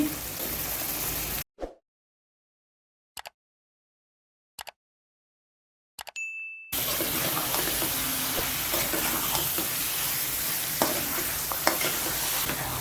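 Beef sizzles loudly in hot spiced oil, a dense crackling hiss that cuts out briefly with a few clinks, then returns strong and steady.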